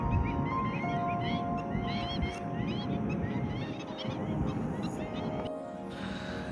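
A large flock of geese and other birds honks and calls continuously at a moderate distance, a dense overlapping chorus that drops abruptly near the end.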